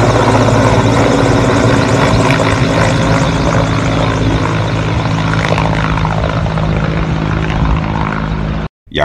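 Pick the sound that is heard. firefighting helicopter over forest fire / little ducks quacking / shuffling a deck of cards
firefighting helicopter over forest fire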